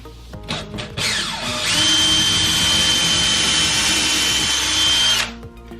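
A power drill bores through drywall into a wall stud while a TV is being mounted, spinning up with a brief start, then holding a loud steady high whine for several seconds before stopping.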